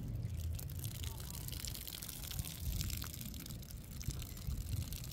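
Water gushes and trickles steadily out of a soaked Phalaenopsis orchid pot, a close, continuous splashing drain with small irregular spatters throughout.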